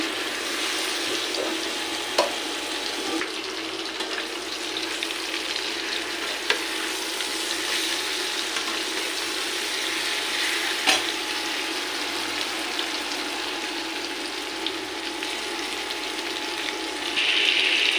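Spiced chicken wings and pigeon meat sizzle steadily after landing on browned fried onions, a dense, even hiss that runs close and loud throughout with only faint stirring ticks and no voices.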